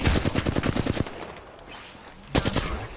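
Rapid automatic gunfire in the Apex Legends video game: a fast burst of closely spaced shots for about a second, a pause, then another short burst, loud and near.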